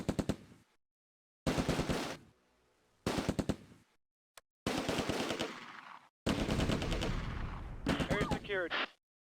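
Bursts of MG42 machine gun and rifle fire in the World War II video game Close Combat, loud sustained volleys separated by short silences, with a final burst trailing into a ringing ricochet-like whine.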